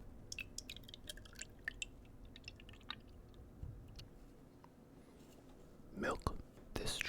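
Close-miked, soft chewing of a Walmart chocolate cake in an ASMR eating session: faint moist clicks and squishes that build to a louder burst of mouth sounds near the end.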